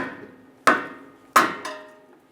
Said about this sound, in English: I'm gonna use my pry bar and just tap the pry bar with a hammer